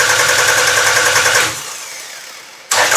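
A small motor running with a loud, rapid, buzzing drone that cuts off about halfway, leaving a fading tail and near quiet before a sudden loud burst of sound returns at the end.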